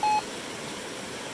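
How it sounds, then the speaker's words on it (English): A single clear electronic beep from a Gold Monster 1000 metal detector at the very start, steady and fairly loud, followed by a low hiss of the Mameyes River running, with no talking. "a little beep here in the water, pretty consistently"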